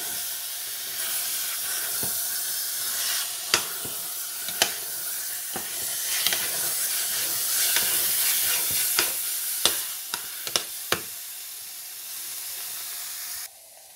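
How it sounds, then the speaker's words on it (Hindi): Carrot halwa roasting in ghee in a pan: a steady sizzling hiss runs throughout, broken by sharp scraping clicks from stirring that grow more frequent near the end. "तो देखें यहाँ मैं भून रही हूँ।"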